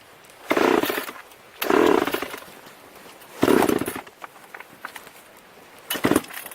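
Old chainsaw with a choke and a manual push-button bar chain oiler, loud and close, revving in four separate bursts with short quieter idle gaps between them, no talk.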